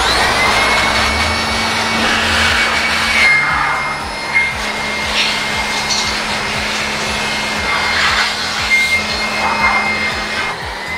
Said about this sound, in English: I need to dry it lah. So I bought this dryer